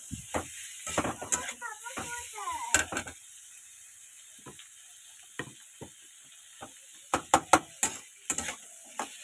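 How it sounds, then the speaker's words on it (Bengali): Potatoes and eggplant, fried beforehand, go back into a pan of hot oil for more frying, with a faint steady sizzle broken by sharp clinks and scrapes of stirring that come in irregular bursts. "ভেজে রাখা আলু বেগুনগুলো দিয়ে দিলাম"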